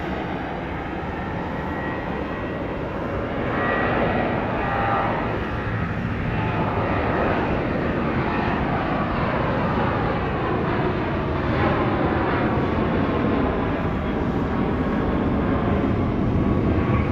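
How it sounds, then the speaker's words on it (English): A Boeing 737-700 jet airliner departs Dallas Love Field at night, its engine roar loud and steady throughout and swelling slightly midway, with no voices over it. "Flight 4034 to Austin, a 737-700."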